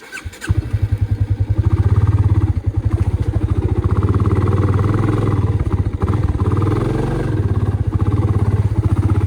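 A faulty motorcycle engine needing repair idles and revs up close, with a loud rapid throbbing and some mechanical clatter throughout.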